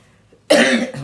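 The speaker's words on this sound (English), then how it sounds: "While I cough this out." A single sharp, close cough bursts out after a moment of near silence.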